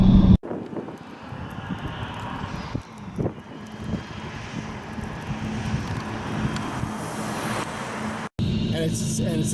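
A supercharged BMW M3 E92 making about 650 horsepower on its stock clutch accelerates hard. A sustained engine roar mixes with wind and road noise, and talk runs over it before a brief cut near the end.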